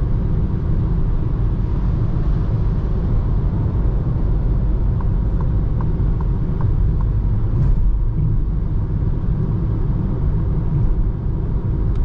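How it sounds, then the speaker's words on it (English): Wind noise inside a 2021 Citroen C4 Shine, a raised crossover, driving at highway speed at night: a steady broadband rush over low road rumble, constant throughout, with faint ticking tones partway through and no voices. "there's a little bit of wind noise because, you know, it's a uplifted car"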